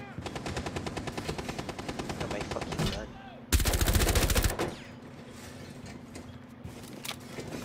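Rapid automatic gunfire from the video game Rainbow Six Siege rattles loud and close in long bursts, followed by a dense, louder burst, then quieter scattered shots under a steady hum.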